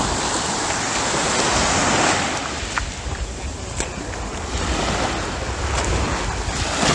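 Large sea waves rolling up a beach in strong wind, a continuous loud roar of surf with gusty wind buffeting the microphone and a few splashy bursts, no speech.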